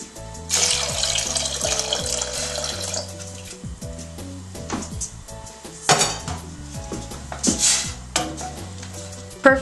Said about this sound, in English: And we're going to add 2 more cups of water.